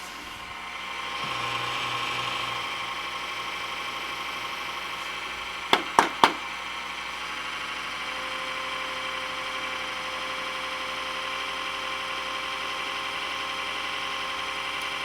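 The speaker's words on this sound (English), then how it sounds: "That power supply sounds like a flippin' cement mixer" An HP Media Center computer's noisy power supply drones with a steady whining, grinding hum, broken by three quick sharp clicks in the middle.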